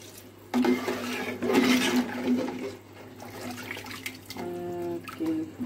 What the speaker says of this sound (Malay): So, kita tambahkan air